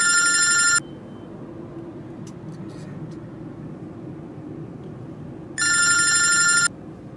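A telephone rings in two loud, bright bursts, one at the start and one near the end, with a quiet low rumble between them.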